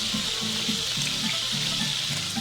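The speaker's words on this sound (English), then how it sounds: "We're going to continue to brown these up" Italian braciole brown in a hot pan with a steady, loud, close sizzle, joined by faint low rhythmic thumps and no talking.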